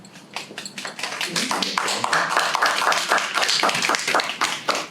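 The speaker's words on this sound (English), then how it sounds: "So we applaud you all for your dedication." Audience at a Natchez-Adams County school board regular meeting claps for board members, a moderate crowd of individual claps building into steady applause with distinct hand strikes audible.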